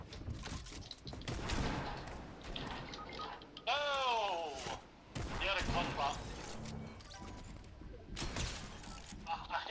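Submachine gun fire in a video game rattles in bursts of rapid shots, heard among game effects and under excited talk from a player.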